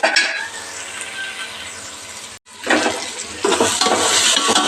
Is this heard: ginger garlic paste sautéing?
yes